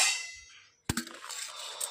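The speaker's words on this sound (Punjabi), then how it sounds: "ਆਪਾਂ ਜਸ਼ਨੇ ਦਾ ਟੀਫਨ ਆ ਕਰ ਦਈਏ" Metal tiffin lunch box being packed in a home kitchen: a sharp metallic clang followed by lighter rattling and clinking of metal containers, close and fairly loud, with no talking.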